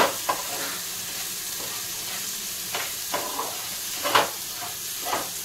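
Spice paste for fish curry frying in oil in a pan, a close hissing sizzle broken by several scraping stirs of a spatula.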